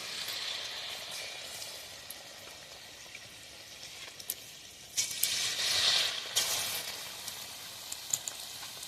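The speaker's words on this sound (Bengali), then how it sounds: "ছোট ছোট করে আমি মালপোয়াগুলো ভাজবো" Spoonfuls of malpua batter sizzle in hot oil, a steady crackling hiss that swells and sharpens as a fresh portion drops in, alone without talk.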